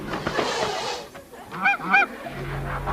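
A goose gives a couple of close, nasal honks after a brief rustling noise, then the sound settles into a low hum; no one speaks.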